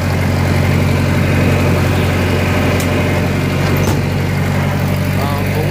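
A farm tractor engine idles steadily and loudly nearby, a constant low rumble throughout with no pauses, beside a hay baler and wagon on a cold morning.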